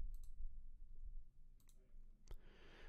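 A computer mouse clicks a few times while a date and time are selected, quiet isolated taps spaced over a couple of seconds against low room hum.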